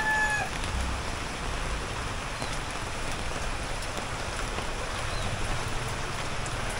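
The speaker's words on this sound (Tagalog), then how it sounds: "Then ang lakas ng ulan." Heavy rain falls steadily near San Pablo lake, a dense, constant hiss close by with no pauses, and a rooster crows faintly in the distance.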